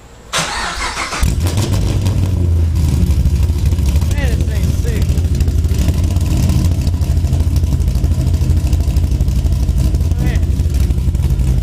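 A 2010 Chevrolet Camaro SS cranks briefly and fires up into a loud, close, lumpy idle with occasional revs, while someone speaks excitedly over it.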